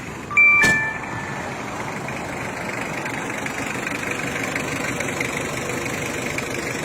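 A 1997 Toyota Mighty-X pickup engine idles steadily after a brief start-up burst, a close, even rumble that holds unchanged to the end with no talking.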